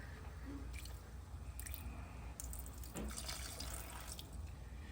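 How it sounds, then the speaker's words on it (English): White vinegar is poured over raw ribs and chicken, giving quiet wet squishing and dripping sounds in short bursts over a faint background hiss. "I'm gonna Add a little bit of white vinegar. Not much, just a little bit of white vinegar."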